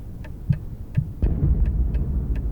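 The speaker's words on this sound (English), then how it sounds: "I hear my heart beating hard." A heart beating hard in a bedroom at night, with low, close, muffled thumps about every half second, soon joined by a deep, steady rumble underneath.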